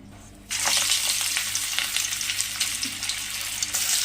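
Corn vadas drop into hot oil in a pan, and a sudden bright sizzle starts and then holds as a steady, dense crackle with small pops, close up and with no voice.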